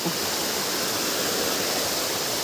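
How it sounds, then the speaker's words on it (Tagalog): Salugsog Falls waterfall, a dense, steady roar of falling water filling the whole moment, close and loud with no voices. "Sobrang ganda ng mga kalahi itong Salugsog Falls"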